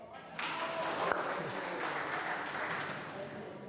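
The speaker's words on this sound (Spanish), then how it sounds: "Un aplauso." An audience at an open lecture on botanical expeditions in the Caribbean breaks into steady, moderately loud applause, a dense wash of clapping with faint voices mixed in.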